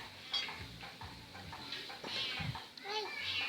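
A cat meows a few short times, asking for fish, close by amid a busy household with clattering dishes and people talking.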